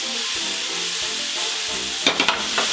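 Onion, pepper and garlic frying in merguez fat in a pan give a steady close sizzle, with a few sharp scraping stirs near the end.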